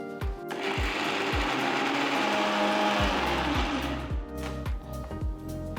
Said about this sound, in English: Transfer all the cool ingredients to the mixer jar and grind it to a nice smooth paste.